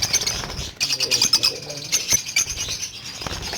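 Caged lutino fisher doves coo, chirp and flap their wings in a bird setup in Lalukhait. Soft calls and rustling wingbeats overlap continuously at close range, with no speech.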